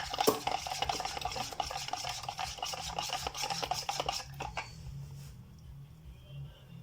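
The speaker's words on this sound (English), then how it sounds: "Stir it up." A spoon stirs a rainbow candy flavoured pre-workout drink in a cup, giving rapid, steady clinking and scraping close by for several seconds before it stops. No one speaks.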